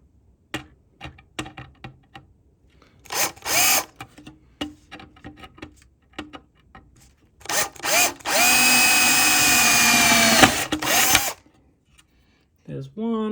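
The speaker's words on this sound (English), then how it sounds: "we're just gonna drill a hole through the aluminium and mount it up" A power drill with a step bit whirs in short bursts, then bites through aluminium in a sustained high-pitched grinding run, with clicks and handling noises between.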